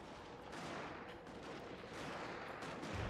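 Gatling towers fire in a Total War: Warhammer 2 battle as a dense, steady crackle of gunfire, distant and moderately faint within a noisy battlefield wash.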